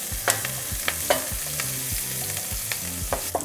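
Strips of onion fry in a pan while a utensil stirs and scrapes them, with repeated scraping clatters over a steady close sizzle for a few seconds and no talking.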